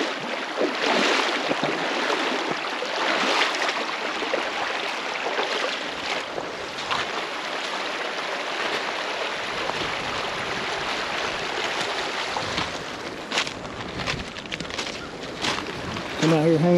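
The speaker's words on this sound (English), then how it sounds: "This is a little offshoot creek." A small offshoot creek in Cossatot River State Park flows with a steady broadband rushing and babbling close by, continuous throughout with a few brief clicks and knocks.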